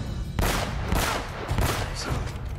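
Gunshots from the video game Uncharted: Drake's Fortune, several loud, close cracks in quick succession over a dense, rumbling combat backdrop with no talking.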